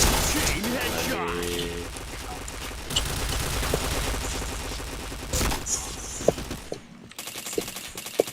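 Rapid bursts of gunfire from a shooter video game crackle almost continuously, with an automatic-weapon rattle dense and loud throughout and a brief lull near the end before more shots resume.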